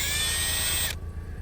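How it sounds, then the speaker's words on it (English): A power drill whirs steadily at close range for about a second, driving a screw into the snapped bonnet latch of an Audi TT Mk2, then cuts off abruptly. "So got my drill here"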